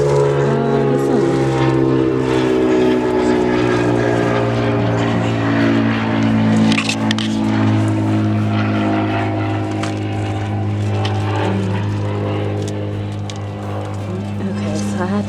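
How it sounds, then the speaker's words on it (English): A propeller airplane passes overhead above a garden. Its loud, droning engine hum fills the whole stretch and fades slightly near the end. "I had to let that airplane pass because it's pretty loud and you won't be able to hear me"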